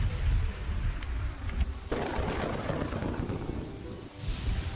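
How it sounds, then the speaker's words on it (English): Rain storm in the video game Kingdoms & Castles: a steady broadband hiss of falling rain that swells and thickens partway through into a denser downpour, with low rumbling underneath and no talk. "Oh, here we have some rain."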